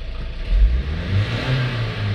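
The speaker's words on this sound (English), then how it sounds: "Give it a rev." A car engine is revved during a diagnostic scan-tool check, a close mid-pitched rumble that swells in two short surges over a steady idle.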